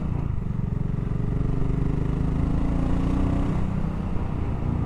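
BSA 650 Goldstar single-cylinder motorcycle engine running steadily while being ridden, a continuous low rumbling drone with mild wind noise, fairly loud and even throughout.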